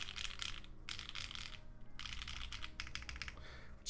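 Keystrokes on a custom-built mechanical keyboard clatter in quick, uneven bursts with short pauses between them, close and clear with no voices over it.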